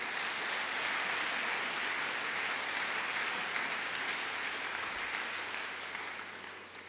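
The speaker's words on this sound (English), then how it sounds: "Once again, big round of applause." An audience at a firefighter trainee graduation ceremony gives sustained applause, a broad, even roar of many hands clapping that holds steady, then fades slightly toward the end, heard from some distance and with no talk.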